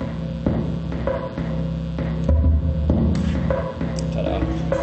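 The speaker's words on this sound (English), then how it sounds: "Make a nice 4/4 drum machine / sequencer." Synthesized drum machine sequencer playing a steady 4/4 pattern with thumping low beats and humming, buzzy electronic tones, dense and continuous at moderate loudness with no voice over it.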